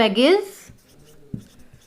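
Marker or chalk scratching on a board as a table is drawn in a maths class on data handling, a short stroke and a few light taps following a brief burst of a teacher's voice at the start.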